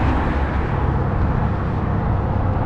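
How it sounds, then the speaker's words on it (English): Rush hour street traffic rumbles as a continuous, fairly near wash of passing cars and vehicles, steady and dense with no talk over it. "Traffic is crazy"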